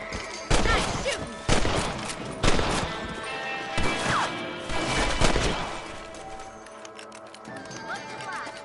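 Rifle shots ring out at rabbits in Red Dead Redemption, five or six sharp reports spaced about a second apart with a ranch setting behind, followed by quieter clatter and horse sounds.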